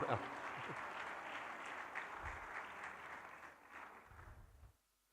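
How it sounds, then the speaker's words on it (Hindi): A crowd applauds steadily for several seconds, the clapping dense and fairly close, then dies away abruptly. "तालियां जोरदार"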